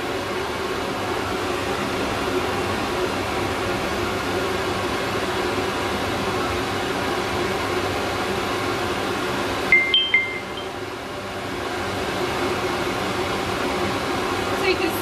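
A hair dryer blows steadily at close range while a dog is dried and brushed, giving an even, unbroken whoosh, with a brief clatter about two-thirds of the way through.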